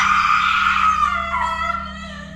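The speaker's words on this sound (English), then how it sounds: "a blood-curdling scream echoed from an empty hallway nearby" A loud, sustained scream with a falling pitch rings out in an empty hospital hallway, its echo trailing over a steady low hum.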